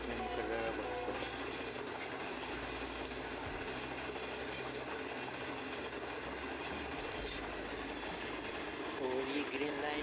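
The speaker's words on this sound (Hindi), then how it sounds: "ये ग्रीन लाइन एक्सप्रेस है जो कल रावलपिंडी इस्लामाबाद से चली थी और आज कराची पहुंची अपने मुकर्ररा वक्त पर।" Green Line Express passenger train running toward Karachi Cantt, a continuous loud rolling rumble and rattle of wheels on track for the whole stretch, with a faint voice beneath.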